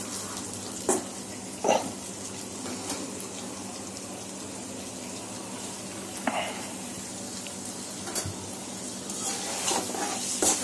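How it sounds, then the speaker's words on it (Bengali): Fish is stir-fried in a pan for mung dal muri ghonto, a continuous close sizzle broken by a few sharp scrapes and knocks of the stirring spoon. "একটু ভালো করে ভুনে নিতে হবে।"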